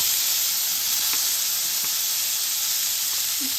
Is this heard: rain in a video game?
no